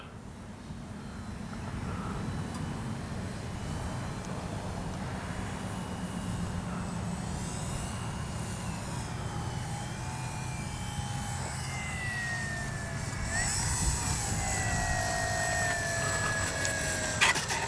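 A Dynam DHC Beaver V2 RC airplane takes off, its electric motor a steady whine that rises in pitch and swells slightly louder toward the end, heard alone outdoors.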